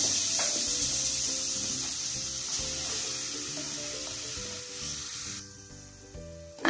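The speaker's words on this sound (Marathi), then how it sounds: "आता हे गाजर चम्मचने पलटवून घेऊ" Grated carrot frying in melted ghee in a pan, a steady close sizzle with soft scraping and stirring rubs throughout, no voices.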